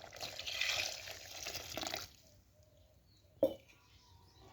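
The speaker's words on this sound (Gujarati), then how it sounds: "પાણી રેડી દઈએ." Water pours into a cooking pan of roasted raw kalinga in oil and masala, a close splashing rush for about two seconds, then quiet with a brief knock or splash near the end.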